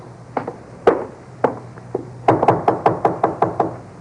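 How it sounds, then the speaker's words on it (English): Knuckles rap on a door in a 1950s radio crime drama: a few scattered knocks, then a faster run of about ten sharp, close raps, with no voices. "Let him knock again."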